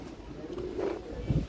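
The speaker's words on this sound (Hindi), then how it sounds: "कबूतर" A pigeon cooing close by, a short low throaty coo in a quiet indoor-sounding space, alone without talk.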